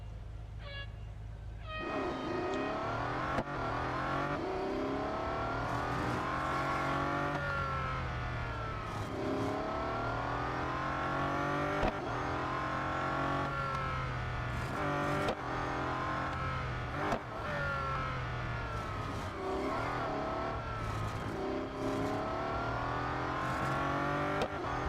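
A race car engine in an autocross event at Melbourne in the racing game Real Racing 3 revs steadily and repeatedly, its pitch climbing and dropping through gear changes, close and constant for the whole stretch.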